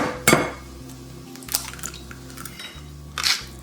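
Twelve eggs cracked one after another into a medium bowl: a few sharp clacks of shell against the bowl's rim, separated by quieter stretches of faint dripping and a low steady kitchen hum.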